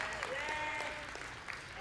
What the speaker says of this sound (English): Give Jesse a round of applause